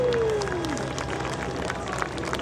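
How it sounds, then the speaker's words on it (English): Crowd applause at the EAA AirVenture airshow for Susan Dacy and her plane Big Red, a broad, steady wash of clapping and cheering with a faint descending engine tone fading early on. "how about a nice round of applause for Susan Dacy and Big Red"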